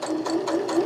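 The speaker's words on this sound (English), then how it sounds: "And then you just go ahead and stitch" A sewing machine stitches slipcover fabric for a sectional sofa, its motor whirring steadily with a rhythmic pulsing of the needle, close and fairly loud.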